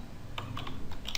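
Keys clatter on a computer keyboard while a command is entered during a penetration-testing session, several quick close clicks in an irregular burst over a low steady background hum.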